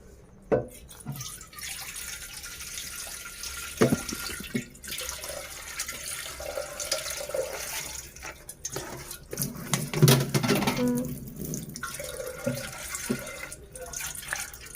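Tap water runs into a cooking pot that will be used to boil an egg for noodles, a steady rushing splash that continues for about fifteen seconds with a voice talking faintly in the background.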